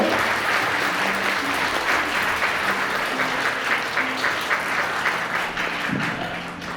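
Wedding guests at a ceremony break into sustained, dense applause, a loud continuous patter of many hands that thins slightly toward the end, with faint tonal background sounds underneath.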